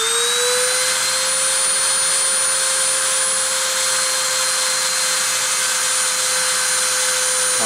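Spindle spinning up to 30,000 RPM for deposition, a loud steady high-pitched whine that rises briefly then holds constant over a continuous rushing hum, with no voices.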